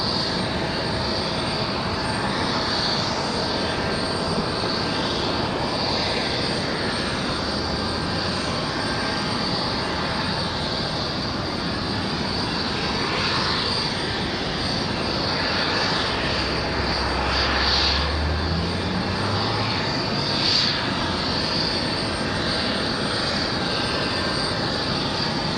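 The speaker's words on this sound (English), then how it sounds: "Little Cirrus Vision Jet." Small Cirrus Vision Jet single-engine aircraft at Raleigh-Durham International Airport, a steady broad engine roar that swells and shifts gradually, with a low rumble passing through midway, heard at a distance and continuous without speech.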